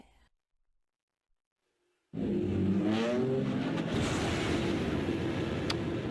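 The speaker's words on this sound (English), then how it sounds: "Are you able to play me the noise of the engine again? The startup" Silence, then a starfighter engine abruptly roars to life with a loud, sustained rumbling whine that holds steady, mechanical and close.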